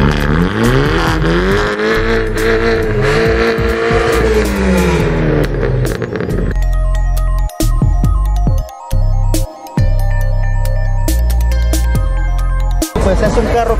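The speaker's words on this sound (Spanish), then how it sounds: "Hacer una pequeña demostración de cómo se escucha esa tubería directa" A fuel-injected car with a straight 3-inch exhaust pipe revs hard and loud up close, rising and falling through several throttle blips before dropping to a deep, rumbling idle broken by short sharp bursts.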